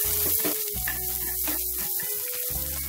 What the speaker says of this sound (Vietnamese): Cho tỏi và hành tím băm nhỏ vào chung.